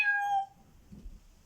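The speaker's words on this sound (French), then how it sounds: "elle entendit un miaulement derrière elle" A single short cat meow rings out clearly at the start, then fades into a quiet, faintly rumbling background.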